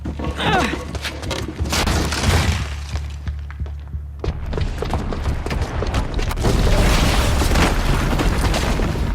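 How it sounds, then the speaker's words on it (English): A booby-trapped bomb goes off in the Horizon Zero Dawn video game, heavy booms and crashing, shattering debris over a low rumble, with a lull midway before a dense, loud burst of breaking and crumbling noise. "the booby trap on the bomb downstairs is gonna get set off"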